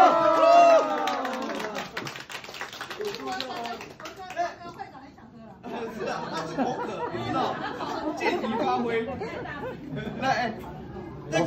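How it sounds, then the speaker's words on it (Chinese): An audience at a parlor magic show bursts into a scatter of close hand claps that fade into steady crowd chatter and murmuring voices. "掌声鼓励。 哦，掌声。"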